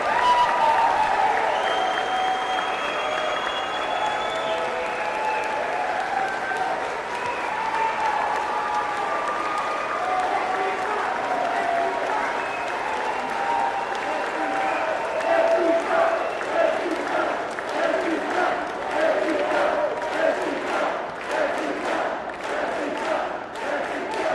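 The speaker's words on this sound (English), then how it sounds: "Let's give her a big applause." A political rally crowd in San Antonio applauds a congressional candidate, a dense, sustained wash of clapping and cheering at steady loudness that swells slightly toward the end.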